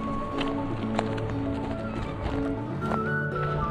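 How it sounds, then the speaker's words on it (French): Horses close by along a rural route in Georgia, with a clip-clop of hooves and a possible whinny over steady outdoor ambience; no talk. "Il y a des chevaux là."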